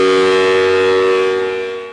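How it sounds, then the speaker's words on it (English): A loud, sustained wail of a tornado warning siren during a statewide drill, with steady harmonic tones, holding strong before beginning to fade toward the end. "was the statewide tornado drill. You hear the sirens"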